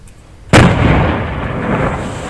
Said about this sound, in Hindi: 12 mm के पाकिस्तानी शेल को तबाह कर दिया गया